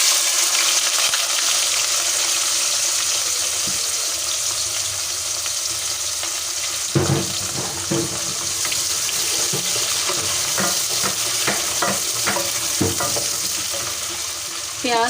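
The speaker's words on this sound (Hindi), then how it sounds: "प्याज को मैं गुलाबी होने तक इसको मैं फ्राई कर लूँगी।" Chopped onion fries in a pan at home, a continuous close sizzle with scraping and clatter from stirring. Running water and a few sharp clinks come in partway through.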